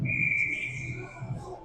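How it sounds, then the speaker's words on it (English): A referee's whistle sounds during an ice hockey game, one sustained shrill blast lasting over half a second above low arena rumble and crowd murmur. "Whistle blows."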